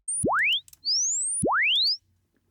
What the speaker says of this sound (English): we get this sweep wave